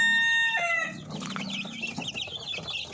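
Darag native chickens on a Philippine farm give off short, scattered clucks and squawks, fairly close and moderately loud, with one higher drawn-out call at the start before the clucking continues irregularly.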